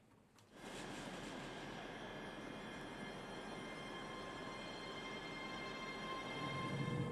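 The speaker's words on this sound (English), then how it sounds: "almost immediately our train begins a 1 in 45 climb up the Cowlairs incline, most of which is in tunnel." A passenger train on the Edinburgh–Glasgow line, heard from the driver's cab, climbs the steep Cowlairs incline, mostly in tunnel, with a steady, dense rumble and rail noise that holds constant throughout.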